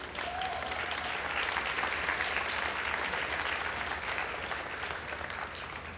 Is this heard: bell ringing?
no